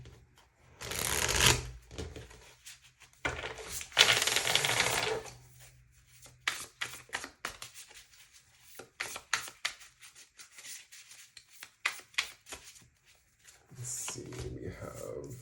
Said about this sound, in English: let's get some Light Seers tarot cards out on the table